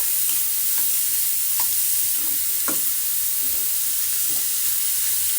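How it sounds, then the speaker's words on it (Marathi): Vegetables fry in a pan with a constant loud sizzle and hiss, broken now and then by soft stirring scrapes of a spoon, close up and without voices. "याला छानपैकी असं फ्राय करून घेऊ मस्त"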